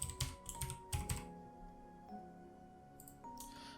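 Keys are typed on a computer keyboard up close, a couple of short clusters of crisp clicks at the start and a final few taps after a quiet pause, with faint steady hum underneath.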